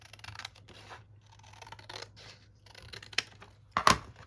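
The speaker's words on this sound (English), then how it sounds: "Take your scissors and chop this one side down." Scissors snip through junk mail paper during a craft project, trimming one side to size; a few quiet rustling cuts lead up to a couple of sharper, louder snips near the end, with no talking.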